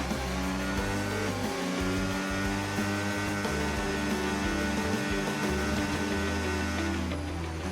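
An F1 25 race car in the video game screams under hard acceleration while overtaking, its high-revving engine whine loud and continuous with rising and shifting tones throughout.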